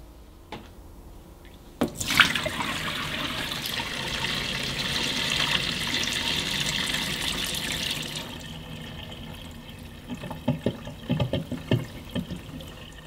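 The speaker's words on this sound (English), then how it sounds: "and then empty it by directing the hose into the sink." Wash water pours from the collapsible drain hose of a small Aldi Leisurewize washing machine into a sink, a steady close gush that begins abruptly, runs for several seconds, then thins into intermittent splashes and trickles.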